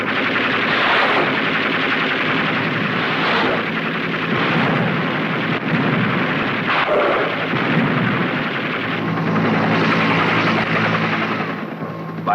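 Continuous loud bursts of machine-gun fire from Navy SEAWOLF helicopters in the Vietnam War, sustained over the whine and roar of rotors and engines, with no pauses for the whole stretch.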